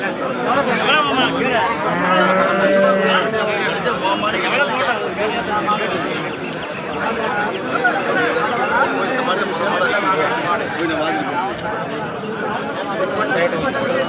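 Cattle at the Erode Karungalpalayam cattle market, including HF cows, give a drawn-out low amid the constant chatter and hubbub of a dense crowd of traders and onlookers, with people talking nearby.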